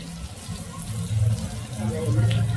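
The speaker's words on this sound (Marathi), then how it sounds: "त्यामध्ये आई थोडंसं पाणी टाकते, वाटण होतं म्हणून" Water poured into spice paste being ground for bitter gourd bharit gives a soft, quiet trickle and splash that rises a little partway through.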